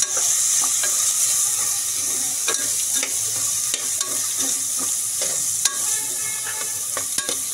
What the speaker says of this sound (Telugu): ముందు వేసుకున్న తర్వాత బాగా కలుపుకోవాలి.